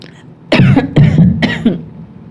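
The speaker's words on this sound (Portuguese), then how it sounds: "Aí a prof até tosse, né?" A female teacher giving a Portuguese revision lesson coughs three times in quick succession, loud and close, with harsh bursts separated by brief pauses and no talk over them.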